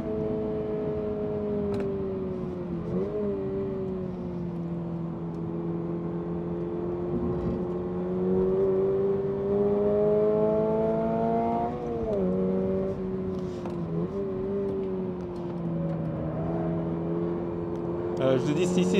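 Toyota GR86 engine on a race track, a steady loud drone with rising and falling harmonics as revs climb and ease through a technical section, continuous throughout and close to the microphone.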